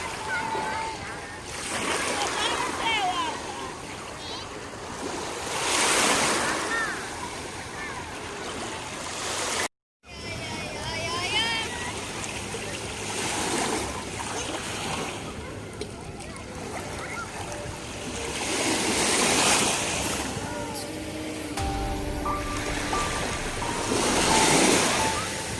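Sea waves wash onto a summer beach in long rolling surges that build and fade, with splashing and swimming children's voices mixed in the background, plus a brief cut partway through.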